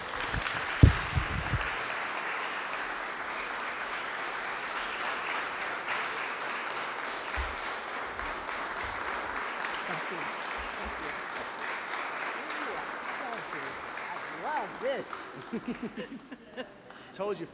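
A long, steady round of audience applause at an athletic hall of fame induction ceremony, heard from a distance with scattered voices and a few whoops rising near the end as it fades.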